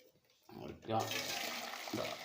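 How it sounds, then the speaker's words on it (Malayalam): Rice cooking water pours and gurgles as it drains away, a short rushing flow starting suddenly and continuing, with a faint voice near the start. "വെള്ളം പോകുന്നുണ്ട്"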